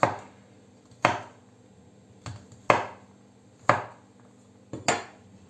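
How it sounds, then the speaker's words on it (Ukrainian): Knife chopping garlic on a board: six sharp, separate cuts spaced about a second apart, close and clear, each with a short ringing decay, and no talking. "Я ось так наріжу, щоб він скоріше йшов в реакцію і випустив сік."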